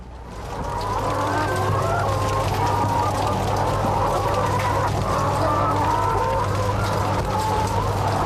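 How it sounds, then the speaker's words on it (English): Many laying hens cluck and murmur continuously in a poultry house with battery cages, a dense chorus over a steady low mechanical hum, with no pauses throughout. "This is the most common form of housing laying hens. We call it battery cages."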